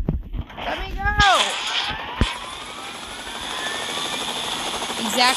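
In the Fortnite video game, a helicopter's rotor and engine drone steadily and close throughout, with a rising whine early on and voices talking over it.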